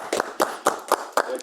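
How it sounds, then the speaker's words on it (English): An audience at a tech talk gives a brief, sparse round of applause: a handful of distinct, fairly close claps spaced out in a loose rhythm. "Round of applause."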